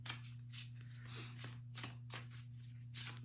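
Oracle cards being shuffled by hand in a quiet room, a series of soft papery riffles and snaps at irregular intervals over a steady low electrical hum.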